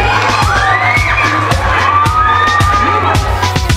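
Schoolchildren at a public school cheer, shout and whoop for visiting former Londrina football players; a loud, dense, continuous crowd roar with excited high voices rising and falling throughout.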